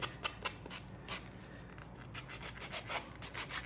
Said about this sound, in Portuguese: Também manter a lixa assim reta, para não dar umas entradas no solado do sapato